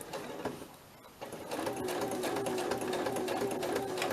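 A sewing machine stitching through paper for a journal, a few short starts and then a steady rapid whir of the needle, close and loud, with no talking.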